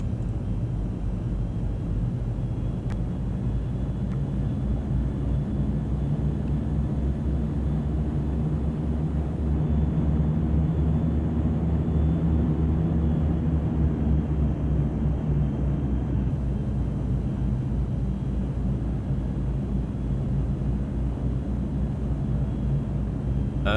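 Airliner rolling for takeoff in the X-Plane 11 flight simulator, a steady loud engine roar and low rumble that holds constant for the whole stretch, with a slight rise in intensity partway through.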